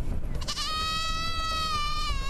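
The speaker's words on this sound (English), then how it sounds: "One of the biggest problems this club suffers is goats." A mountain goat on a cricket pitch at Lynton and Lynmouth gives a loud, close, wavering bleat that rises and holds for about two seconds.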